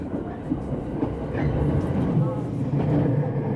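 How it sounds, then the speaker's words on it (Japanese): The Kuroshio limited express rolls over rail points with a steady rumble and rhythmic wheel clatter heard from inside the train, and there are a couple of joint thumps among the noise. "ポイントを越える音が2回ほどして西梅田一番踏切を通ります。"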